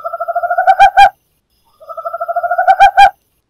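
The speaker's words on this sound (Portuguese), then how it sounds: "a coruja do mato." A coruja do mato (forest owl) calls at night in the Brazilian sertão with two clear phrases of rhythmic hooting notes. Each phrase quickens and swells, ends on louder emphatic hoots, and is followed by a pause.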